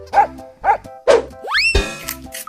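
A cartoonish dog bark sounds amid a playful sequence of animal noises, short repeated bursts separated by gaps, then a springy boing-like sweep, all fairly loud and close with no speech.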